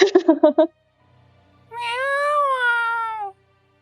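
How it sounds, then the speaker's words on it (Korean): A short burst of talking, then a close, clear, drawn-out cat meow in a quiet room. "고양이가 자꾸 울어가지고"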